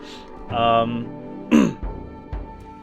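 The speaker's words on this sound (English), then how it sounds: "It's when I clear my throat." A man clears his throat twice, close and loud, with short rough bursts separated by a brief pause and a softer catch at the end.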